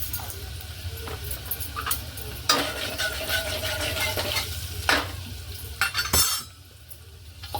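Onion fries in a pan for a village-style fish curry, with a steady sizzle under repeated stirring scrapes and clinks of a utensil against the pan. The frying hiss fades near the end.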